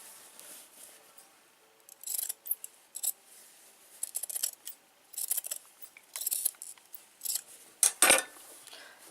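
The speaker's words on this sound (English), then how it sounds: "I just find the pinking shears easier and faster." Pinking shears snip through apron fabric in bursts of crisp metallic crunches, several quick cuts in a row separated by short pauses, close and fairly quiet.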